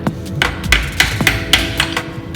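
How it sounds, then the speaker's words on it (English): Several sharp metallic taps of a hammer driving a screwdriver into a Honda Civic EG rear main seal, struck in an uneven rhythm, close by, with a low hum of background noise in between. "And just hitting that with the hammer, you see how it works right up."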